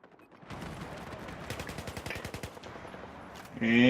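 Rifle gunfire in Battlefield 4, a fast rhythmic string of close, punchy automatic shots over a rumbling battlefield bed, ending with a sudden loud electronic burst.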